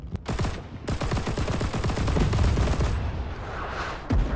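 A Lahti-Saloranta M/26 light machine gun in a Winter War game mod fires a long, rapid, steady burst, loud and close, then stops and one short shot follows.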